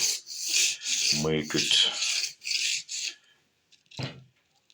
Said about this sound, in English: I glue a sandpaper directly on cylinder to have possibility to